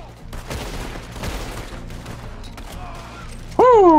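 Gunshots in a Wild West video game: a rapid volley of muffled shots and crackling fire at middle distance, followed by a loud rising-and-falling whistling tone at the end.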